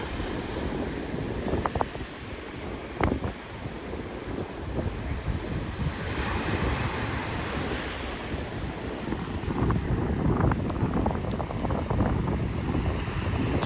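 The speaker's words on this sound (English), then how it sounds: "you can listen to the, the waves, ocean waves" Ocean waves wash onto a Bali beach in a steady, continuous roar with periodic surges, mixed with gusty wind buffeting the microphone.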